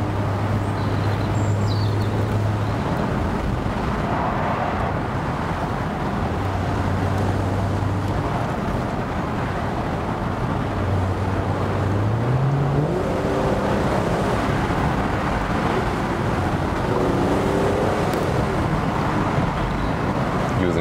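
A Mercedes C-Class Cabriolet convertible cruising with the top down, a steady wash of road and wind noise under a low engine hum, continuous and fairly loud, with no talk.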